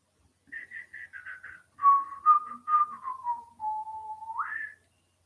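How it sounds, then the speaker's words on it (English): A person whistles a short melody close by, a few quick notes then longer sliding tones ending on a rising note, with no talking. "Whistling is good too."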